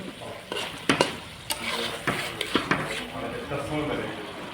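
Pieces of desi chicken being stirred and fried in a pan for kosha, with a soft steady sizzle broken by several sharp scraping clinks of a spatula against the metal pan.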